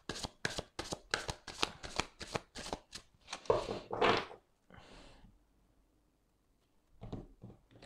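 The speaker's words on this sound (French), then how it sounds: "Je vais retirer quelques cartes." Tarot cards being shuffled, a quick series of crisp riffling snaps followed by a few softer slides as cards are drawn from the deck, close and fairly quiet.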